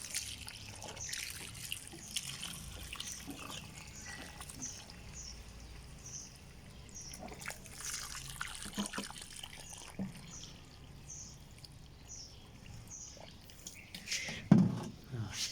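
Soft trickling and dribbling of water poured gently onto potted soil around a sugarcane plant on a rooftop, faint and close, with small drips and a brief louder splash near the end.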